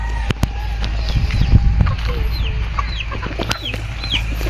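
Month-old chicks kept as poultry peep in many high, quick chirps, close and continuous, with a nearby hen clucking and a low hum beneath, before being given dewormer.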